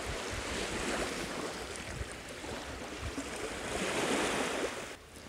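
Baltic Sea waves wash steadily onto the sandy shore near the White Dune at Pabaži, Latvia, a continuous broad surf roar swelling louder toward the end, with wind buffeting the microphone and no voices.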